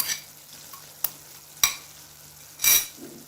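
Spices stirred into an egg korma in a pan produce a few sharp spoon clacks and scrapes against the metal over faint background sizzle.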